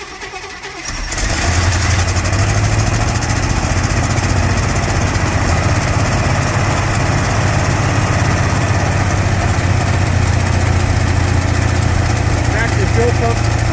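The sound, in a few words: 1957 Chevy engine being cranked over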